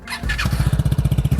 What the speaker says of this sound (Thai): นี่ท่อผ่านะครับสำหรับเจนใหม่เดี๋ยวเรามาฟังเสียงกัน